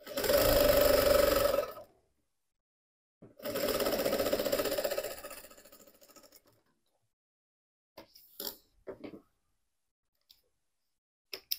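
A sewing machine stitches fabric with yellow thread for a teddy bear backpack, running in two fast, whirring bursts separated by a pause, followed by scattered light clicks and handling noises.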